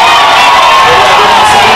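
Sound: crowd booing at a council session

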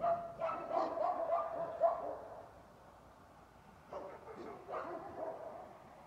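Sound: dogs barking

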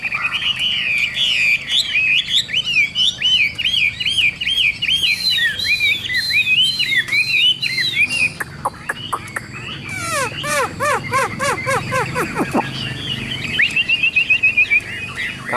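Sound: hwamei singing

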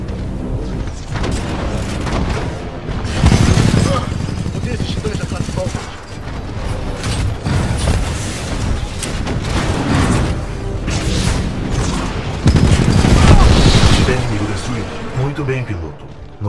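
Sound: gunfire in the video game Titanfall 2

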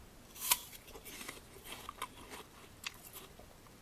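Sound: biting and chewing a Mungyeong apple

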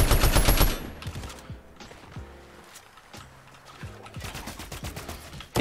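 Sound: assault rifle gunfire in the video game Fortnite

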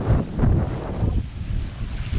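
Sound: strong wind blowing at sea

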